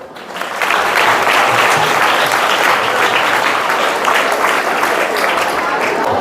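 A school audience claps to welcome a magic show, starting softly and swelling within a second into loud, sustained, even applause from many hands that holds steady to the end.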